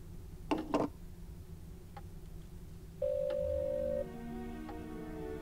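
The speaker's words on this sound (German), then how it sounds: "können wir eigentlich den Notar anrufen?" Telephone in the German-language adventure game Black Mirror 3: two short bursts and faint ticks, then a steady dial tone that stops and gives way to a soft ringing hum, heard alone without talk.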